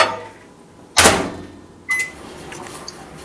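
A microwave oven heats a mug of water: a sharp door thump or latch, then a beep and a soft hum, each close and distinct with quiet between.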